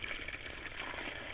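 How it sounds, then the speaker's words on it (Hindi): Water poured from a container onto the soil around a newly planted guava sapling in a field, making a continuous close splashing gush that holds steady for just over a second. "इसमें पानी डालेंगे, थोड़ा सा पानी डाल देंगे"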